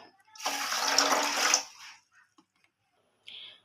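Water is poured into a pot of sugar to make thin syrup for rasgulla, a bright splashing gush lasting about a second and a half, then a few faint kitchen clinks.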